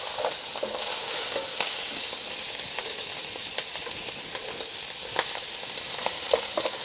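Sausages for a Réunion-style rougail frying in a cast-iron pot give a steady, dense sizzle and crackle with scattered sharper pops, continuous and fairly close.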